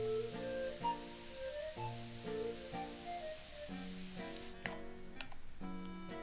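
In Final Fantasy Crystal Chronicles Remastered Edition, a soft in-game spray hiss sits under melodic game music, faint and steady.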